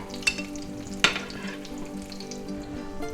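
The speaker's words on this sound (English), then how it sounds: "While we're frying, might as well fry up some Spam." Steady crackling sizzle of eggs and Spam frying in a pan, with two sharp pops early on, close and continuous with no talking.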